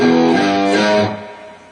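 A short guitar phrase of a few quick notes descends and fades, ending in a soft ringing decay.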